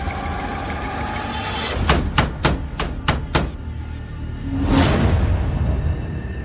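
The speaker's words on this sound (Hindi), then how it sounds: "काफी लोगों के कदमों की आवाज उनके कमरे तक आई" Footsteps of many people as a horror sound effect: about six sharp, evenly spaced thuds land over a dark droning bed, then a loud rising whoosh sweeps in and lingers.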